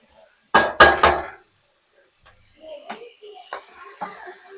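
Fried paneer pieces tumble into a pan of capsicum and tomato with a few loud, close clattering knocks, then quieter scrapes and light taps follow.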